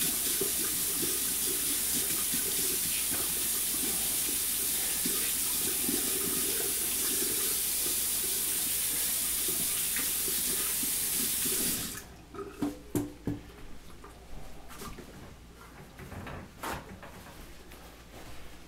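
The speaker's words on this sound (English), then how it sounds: "We're going to take that and wash this gunk off my" A kitchen tap runs in a steady loud hiss for about twelve seconds while dough is washed off hands, then shuts off, followed by scattered clatters and knocks close by.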